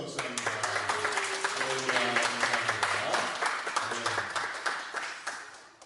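A church congregation at a Sunday afternoon service claps together in welcome, a dense, moderately loud patter of many hands that swells and then tapers off.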